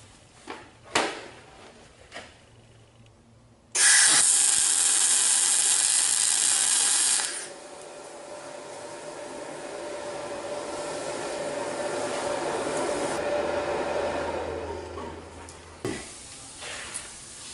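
Plug welding with a wire-feed MIG gun held at 90 degrees close to a backing plate under a top plate: a steady loud crackling hiss bursts on for about three seconds, then a softer sustained sizzle, with a few clanks around it.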